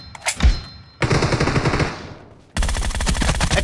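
Rapid automatic gunfire in BGMi team deathmatch, loud close bursts of fast regular shots separated by brief pauses, no talking.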